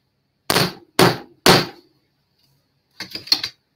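Three loud, sharp gavel-like hammer blows at an even pace closing a session, followed after a pause by a rapid cluster of lighter knocks, with no talk.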